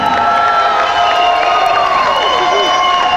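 A wrestling event crowd in Wellsboro cheers and screams for a legendary wrestler, a steady loud roar of many voices with shrill whoops running throughout.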